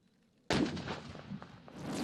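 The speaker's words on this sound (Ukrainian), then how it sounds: "По черзі під'їжджають і від'їжджають та здійснюють постріли." A tank fires a shot during a military exercise in which tanks take turns driving up to fire while trying to capture a dam. One sudden loud blast is followed by a rolling, rumbling echo that fades slowly.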